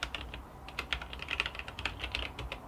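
Steady close typing on a computer keyboard during a React coding workshop, rapid uneven key clicks running continuously over a quiet background.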